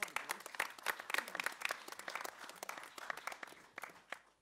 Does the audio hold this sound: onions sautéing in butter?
no